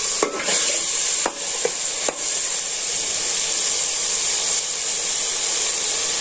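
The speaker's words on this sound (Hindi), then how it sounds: "वो जो चिकन है हम इनको थोड़ा सा भून लें" Chicken in masala stirring and sizzling in a pan, a steady loud frying hiss throughout with a few sharp scrapes of the spoon near the start.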